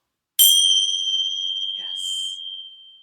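A single yoga bell is struck once, ringing out as a bright, sustained ding that decays slowly over a few seconds, with a brief faint murmur partway through.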